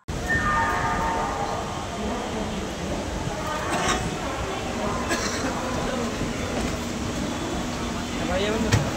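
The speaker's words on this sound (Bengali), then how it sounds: "ট্রেন তার নির্দিষ্ট সময় হাওড়া স্টেশন ছেড়ে গন্তব্যের উদ্দেশ্যে রওনা দিল।" Train pulling out of Howrah station, a continuous rumbling roll of wheels and carriages with faint squeals and clanks, steady and fairly close throughout.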